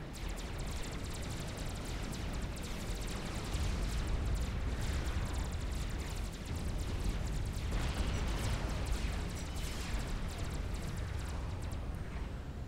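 Continuous rumbling battle din from a Supreme Commander 5v5 match, with long-range artillery fire and explosions blending into a dense, steady roar that swells slightly in the middle and later on, with no distinct single blasts.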